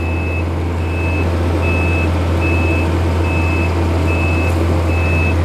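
A rice harvester reversing in Loei province, its backup alarm sounding a steady series of loud single beeps about every three quarters of a second over a heavy, constant diesel engine drone.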